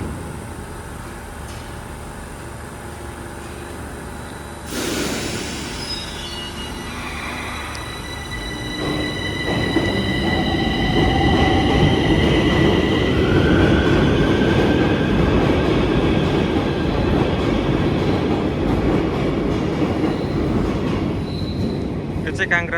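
A metro train at Congress underground station in Romania rolls in and out, building from a hum into a loud rumble with clattering wheels and rising and falling squeals, all reverberating in the enclosed station.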